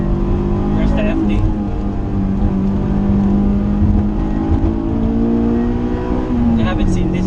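A Mazda RX-7 FD sports car revs and whirs past on a canyon road, its engine note rising and sliding through the gears as a loud close drone, with a few faint voices in the background.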